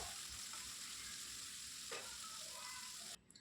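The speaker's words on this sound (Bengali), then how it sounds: "এরপরে আমরা তেলেতে এই নুন হলুদ মাখানো চিংড়ি মাছটা ছেড়ে দিলাম।" Salt and turmeric coated shrimp frying in hot oil give a continuous close hiss and sizzle with light stirring clatter, cutting off sharply near the end.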